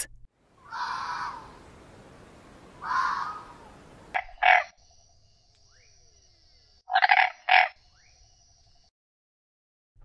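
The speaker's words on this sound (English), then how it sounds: "Frog." A frog croaks in short rasping bursts, two longer croaks followed by a quieter stretch and then a pair of quick clipped croaks, fairly faint against a quiet background.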